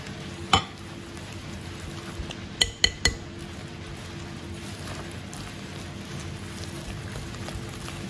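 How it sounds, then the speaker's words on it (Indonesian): A mixture being stirred in a bowl for Putri Salju cookies, a soft steady scraping with a few sharp clinks of the utensil against the bowl near the start and middle, close and moderately quiet with no talk. "Ini kita aduk-aduk gini aja ya."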